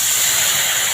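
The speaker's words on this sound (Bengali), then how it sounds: "গ্রেভিটা ফুটে গেছে" Koi fish gravy with mustard paste, ground green chilli, turmeric, salt and water bubbling to a boil in a pan, giving a steady close hiss and sizzle with no pauses across the brief moment.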